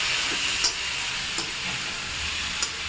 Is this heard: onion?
yes